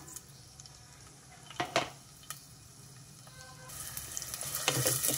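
Onions and green chillies hit hot oil for a broad bean and fenugreek leaf curry. A steady sizzle runs throughout, with a couple of sharp utensil clinks partway, then the frying swells louder and brighter toward the end, with no talking.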